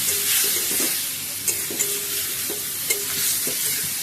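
Onion paste sizzles steadily in hot oil in a home kitchen, a dense continuous frying hiss punctuated by a few soft scraping stirs, close and unbroken with no talking.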